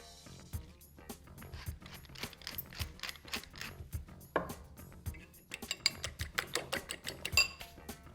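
A fork whisking four eggs in a bowl, with quick irregular clinks and taps of metal against the bowl in a loose, uneven rhythm, close and fairly quiet.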